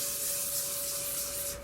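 Light scuffing sandpaper passes over a lacquered camphor wood hollow form, giving a steady, soft, continuous hiss close by, with no talking.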